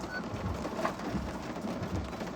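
Steady rain patters against a window glass, a dense continuous wash of drops with no talking and no distinct thunder.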